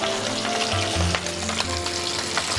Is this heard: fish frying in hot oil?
yes